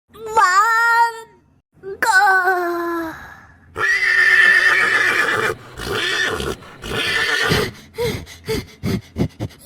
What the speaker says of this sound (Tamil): ஐயா குதிரை சத்தம் கேக்கு